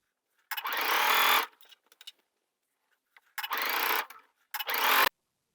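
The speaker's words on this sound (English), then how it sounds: "then you sew following that first fold" A sewing machine stitches fabric along a folded waistband edge, running in three close bursts of about one second each, separated by short pauses and light handling clicks.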